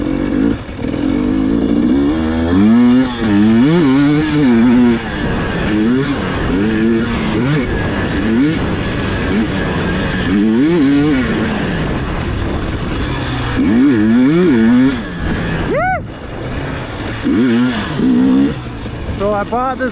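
A 2021 KTM 300 XCW TPI dirt bike on a winter sand ride, its engine revving loudly and close, pitch repeatedly climbing and falling as the throttle opens and closes, with a voice talking over it.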